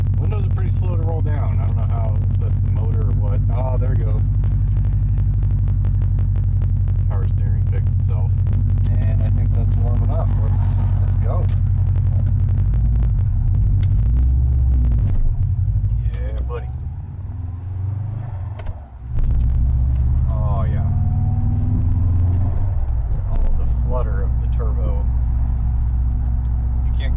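A 2002 Subaru WRX wagon drives along with a steady low engine rumble, dipping briefly as a downshift misses second gear, while someone talks over it nearly the whole time.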